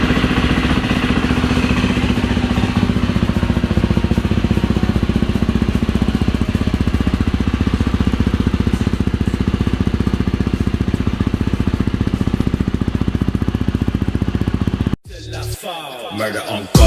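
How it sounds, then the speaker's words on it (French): A KTM 250 SXF four-stroke motocross motorcycle runs close up with a loud, steady, rattling engine drone throughout. It cuts out abruptly near the end. "je vais vous faire écouter le bruit de la moto"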